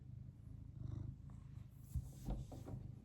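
A house cat purrs close by in a low, soft, continuous rumble with a steady pulsing rhythm, faint and alone, broken by a couple of small bumps near the end.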